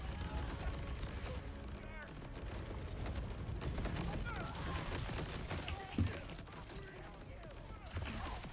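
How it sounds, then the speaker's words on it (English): Rapid gunfire from the Linebacker, a gun in a video game, crackles continuously with sharp bursts and a heavier boom near the end, mixed under dense game sounds and speech-like chatter. "what is this gun? This is the Linebacker."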